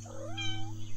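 A cat gives a single rising-then-falling meow, close and clear, lasting under a second with no talking over it.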